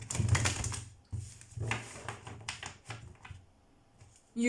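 Tarot cards being shuffled by hand, a close series of crisp riffling and flicking bursts with brief pauses between them, no voice over them.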